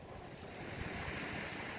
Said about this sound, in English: just gazing at the sea, the rocks, the waves